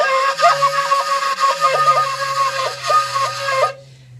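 A shakuhachi plays the koro koro technique messily, a breathy flute tone wavering with uneven, rapid fluttering trills over a faint low drone, stopping abruptly near the end.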